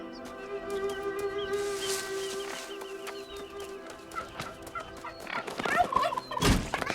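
A turkey in the video game New World gobbles repeatedly in a rapid, warbling series, moderately close, over faint game ambience, followed by some rustling and a sharp thump near the end.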